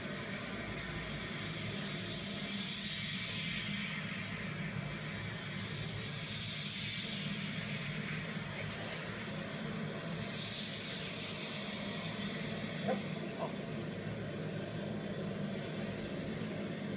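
Red Arrows jets roll for a formation display takeoff at Gilze-Rijen, a continuous, fairly distant jet roar that swells and fades gently over the full length with no talking.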